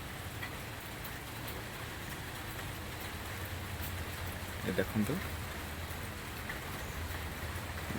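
Steady heavy rain pours down outdoors, a dense even hiss over the whole stretch, with a short burst of other noise near the middle and a voice speaking briefly.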